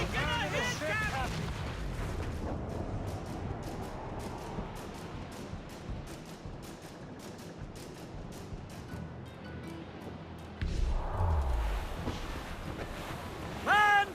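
Cannon fire rolls across a naval battle in Assassin's Creed Rogue, a steady roar of booms and crashing water with a heavier impact near the end. Brief voices come through at the start and close.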